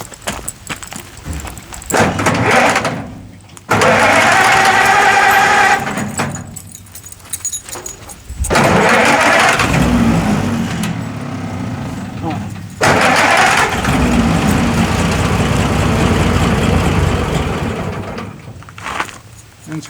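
An old Massey Harris 102 tractor engine being restarted after a carburetor adjustment cranks in repeated loud bursts, catching and running briefly between pauses, with talk under it.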